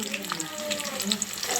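Onions sizzling in a pan for a prawn and mango gravy, a steady crackling fry with soft bubbling and faint clinks, no voices over it.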